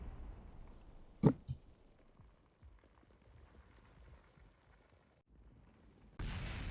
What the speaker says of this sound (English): We have to watch the explosions.